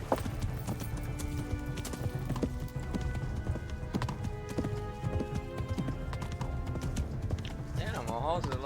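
A horse's hooves clip-clop in a steady trotting rhythm in the medieval game Kingdom Come, close and continuous, with a whinny and other game sounds mixed in and someone talking over it.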